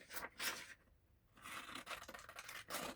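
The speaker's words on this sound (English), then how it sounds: "Get the scissors, cut it out by hand like that, roughly." Close scissors snip and rustle through paper in quick, uneven cuts, with a brief quiet pause partway through.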